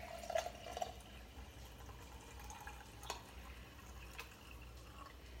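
Water poured over raw cashews set to soak in a kitchen, a soft, steady trickle with a couple of brief splashy drips near the start, fairly quiet and close.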